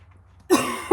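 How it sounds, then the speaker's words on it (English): A single sharp cough from a woman whose throat got tickled, close and abrupt after a near-silent moment, followed by a brief second throaty burst. "Coughing."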